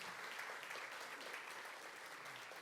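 Church congregation applauding during a Sunday service to encourage a young man about to enlist in the air force, a steady, faint, distant wash of clapping throughout.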